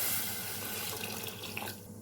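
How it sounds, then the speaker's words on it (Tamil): Water is poured from a tap into a cooking pot of sambar for about two seconds, a continuous splashing stream that tapers off slightly near the end, with no voices. "தண்ணி ஊற்றிக்கலாங்க."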